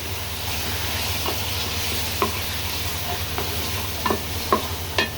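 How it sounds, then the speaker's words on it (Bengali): Stinging catfish sautés in a spice paste, a steady soft sizzle with several sharp stirring clicks and scrapes scattered across the mix, close by and with no voices. "শিং মাছটা আমি কষিয়ে নিচ্ছি, ভালো মতো কষিয়ে নিচ্ছি শিং মাছটা।"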